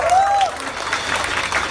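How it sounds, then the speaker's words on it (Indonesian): Applause from a live audience at a coffee shop gig, a close burst of clapping and crowd noise that holds steady through the short moment, with a brief whistle-like tone near the start. "Tepuk tangan."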